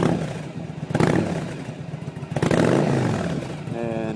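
A 2007 Yamaha V-Star 1100 Classic motorcycle engine with 20,117 miles runs close by and revs up in two strong swells over a rough, lumpy idle.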